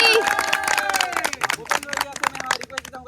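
An audience claps at a reunion celebration in Raipur, a burst of quick, uneven handclaps mixed with crowd voices and a held musical tone early on.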